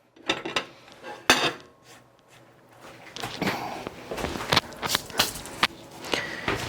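A soft sausage sandwich roll is cut in half in a home kitchen, with scattered knocks, scrapes and clinks of utensils and dishes against the board, close and intermittent.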